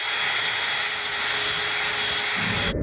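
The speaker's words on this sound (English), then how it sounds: "Find the predetermined positions of your set screws and drill." Power drill boring set screw holes in a wall bracket for a European elk skull mount, a loud steady whine running continuously close up, cutting off abruptly at the end.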